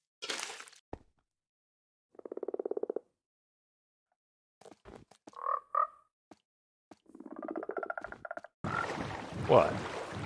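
Minecraft frogs in the video game give several short, throaty croaks in separate bursts, with quiet gaps and other game noises between them, ending in a loud, noisy rush.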